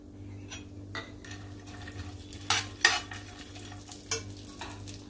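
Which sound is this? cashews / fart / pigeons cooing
cashews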